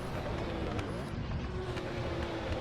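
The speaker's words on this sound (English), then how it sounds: "The car does sound nicer when you do flip it into a low gear." A Porsche 917K race car in the Assetto Corsa game drones along in a low gear, a faint, steady engine hum with a slight pitch rise while a voice speaks over it.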